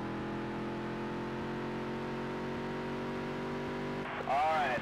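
A NASCAR dirt race car on a qualifying lap, its engine a steady, droning tone held at high revs throughout, then a brief rising whine near the end.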